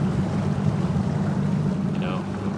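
A boat engine idles with a steady low rumble throughout, constant and close, with a faint higher whine appearing briefly near the end.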